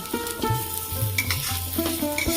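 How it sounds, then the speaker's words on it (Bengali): Washed Gobindobhog rice fries in ghee in a pan over a gas stove, a close sizzle punctuated by quick scraping and stirring strokes of the spoon, with no speech. "চালগুলো আমি ভালো করে ভেজে নেব"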